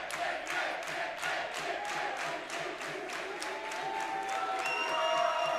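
A crowd at an international axe throwing championship claps in a steady, rhythmic applause that swells slightly toward the end, with faint voices and a few whistles mixed in.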